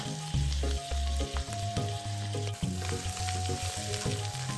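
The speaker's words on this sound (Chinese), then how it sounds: "在一起拌炒至虾米溢出香气" Diced shiitake mushrooms and dried shrimp stir-fry in shallot oil in a wok, giving a steady close sizzle with repeated scraping and tossing of the spatula throughout.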